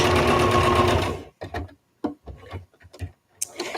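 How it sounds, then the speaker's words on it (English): A sewing machine runs a fast, continuous top stitch on facemask fabric for about a second, then stops, followed by scattered clicks and handling noises of fabric and the machine. "do like a top stitch on both of these ends just so that everything stays down"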